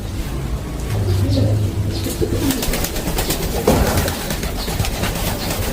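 Pigeons cooing in soft, repeated low hoots close by, with a steady background hum and occasional faint chirps.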